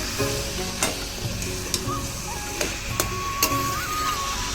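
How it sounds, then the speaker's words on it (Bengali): Cabbage and fish head being stirred together in a hot frying pan for a Bengali chorchori: a steady soft sizzle with scraping spatula strokes every second or so, close and alone. "মাছের মাথাটাকে দিয়ে ভালো করে আমি বাঁধাকপিটা আর মাছের মাথাটাকে মিক্স করে নেব"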